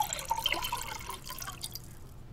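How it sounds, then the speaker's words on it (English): Water pouring from a faucet into a glass in a video game, a short quiet trickle with dripping splashes that fades out within a couple of seconds. "let's get a glass of water"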